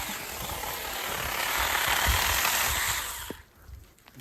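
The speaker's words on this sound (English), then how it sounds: "It's a bit quiet. Very quiet. Compared to a full-size chainsaw." A Saker mini chainsaw cuts steadily, its small motor giving a fairly quiet, even buzzing whine that swells slightly mid-cut and then drops away near the end, heard close and alone.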